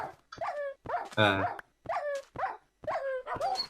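A dog barks and yips repeatedly in short bursts, fairly close, with a brief voice mixed in among the barks.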